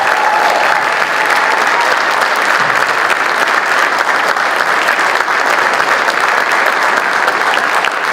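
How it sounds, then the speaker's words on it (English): Sustained applause from a large audience at an awards ceremony, dense steady clapping at an even loudness throughout with no pauses. "how about one last round of applause for all of our nominees here this evening"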